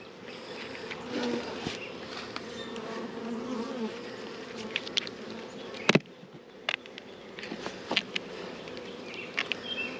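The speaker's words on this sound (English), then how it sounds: "Lots and lots and lots of bees" Dense honey bee buzzing fills the air around an open hive during colony splitting, a steady swarming hum with occasional sharp clicks and knocks from hive handling close by.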